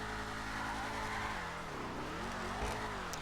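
A Ruiner ZZ-8 car driving in GTA Online, its engine droning steadily with the pitch dipping and rising again as it eases off and accelerates, a brief bump near the end.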